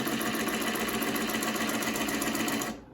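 A cylinder arm walking foot sewing machine stitches with Tex 70 thread in a fast, even mechanical chatter, close and steady for nearly three seconds before stopping abruptly.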